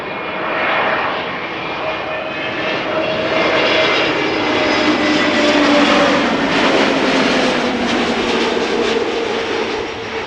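An EasyJet Airbus A320neo arriving on approach to land at Amsterdam Schiphol Airport, its engines roaring loud and steady throughout with a slowly shifting whine, close overhead and continuous.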